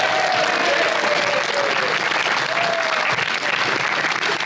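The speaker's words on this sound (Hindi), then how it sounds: "हमारे ऑडियंस के लिए तालियां" Studio audience applause on a television talk show, a steady, dense wash of clapping at close range that holds at full level throughout, with a faint tonal voice line sitting underneath.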